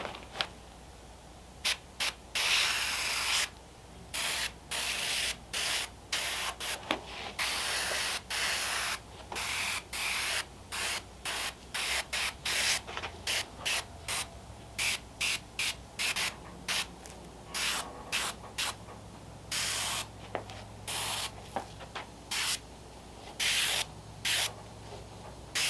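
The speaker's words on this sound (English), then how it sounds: "I'm just using a Badger single stage paintbrush so we can start detailing this little girl up" A Badger single-stage airbrush sprays Vallejo mahogany paint onto a rotting latex zombie snail prop, a loud close hiss in many short bursts broken by brief pauses throughout.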